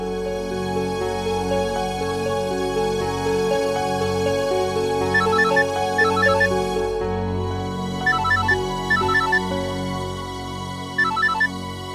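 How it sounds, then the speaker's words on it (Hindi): A phone ringtone chimes in short repeated bursts over a steady background of music, the ring pattern recurring several times. "इशिता के इतने सारे फोन"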